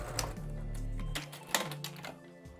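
A domestic sewing machine runs a quarter-inch seam on right-sides-together fabric, a steady mechanical whir that stops, then brief clicks and a short restart for the back stitch, close and alone.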